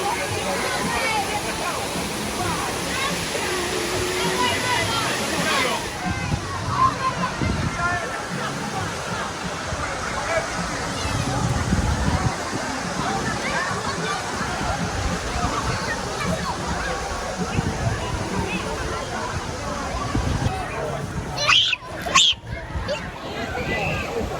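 Dunn's River Falls in Jamaica pours as a steady, full rush of cascading water close to the microphone, with splashing, a crowd's babble and people talking over the continuous roar.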